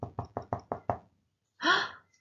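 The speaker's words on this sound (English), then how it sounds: "there was a knock at the door." Six quick, loud knocks sound on a door in an even run, followed after a short pause by a brief breathy vocal sound.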